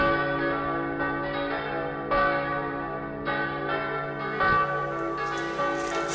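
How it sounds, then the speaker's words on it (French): Church bells of Nain ring out in a layered, overlapping peal, with repeated strikes ringing on and blending together, loud and resonant. "Soudain, les cloches de Naïn se mettent à sonner."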